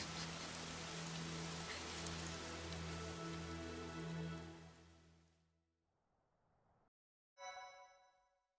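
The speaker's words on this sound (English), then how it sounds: "Oh, it actually did start raining." Steady rain hisses over a musical score in Fire Emblem: Three Houses, holding loud for about five seconds before fading out, followed by a short bright chime near the end.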